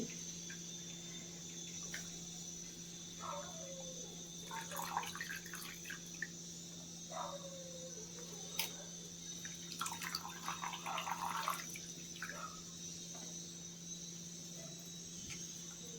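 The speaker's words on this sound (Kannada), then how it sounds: "ಇನ್ನೊಂದು ಸತಿ ತೊಳ್ಕೊಂಡು ಹಾಕೋತಾ ಇದ್ದೀನಿ" Dill leaves and beans are rinsed under running water at a sink, with low trickling and splashing bursts over a steady background hum, fairly faint and with no talking.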